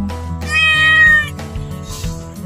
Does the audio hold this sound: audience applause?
no